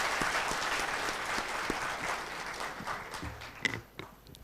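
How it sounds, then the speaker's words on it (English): Audience applause closing a panel discussion at an HR conference, a steady dense patter of many hands that thins and breaks into a few scattered claps toward the end. "A big round of applause for the speakers."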